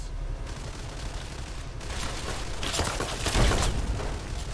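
Automated turrets fire in the Fallout: Tale of Two Wastelands game, a dense, continuous burst of gunfire that builds louder over several seconds and peaks near the end, with no talk over it.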